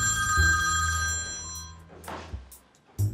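A telephone bell rings loudly and repeatedly in a room, the call going unanswered, with steady ringing tones through most of the stretch before a brief pause and a fresh ring near the end.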